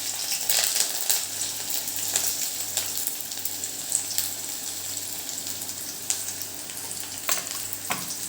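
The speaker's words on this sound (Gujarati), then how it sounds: "રાઈ આપણી તતરી ગઈ છે, તેની અંદર આ લસણ, મરચાં, લીમડી અને ડુંગળી આ બધું એડ કરી દઈશું" Garlic, chillies, curry leaves and onion hit hot oil with popped mustard seeds, giving a steady close sizzle and crackle with occasional scrapes of stirring, and no voices.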